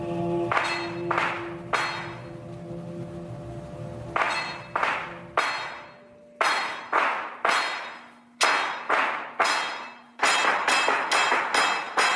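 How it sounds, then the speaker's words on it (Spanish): Repeated metallic hammer blows calling worshippers to mass in the Dodecanese, Greece, ringing out in uneven bursts, each strike bright and clanging like a struck bell, with short pauses between groups. "los creyentes no acuden a misa al son de las campanas, sino de los golpes de martillo"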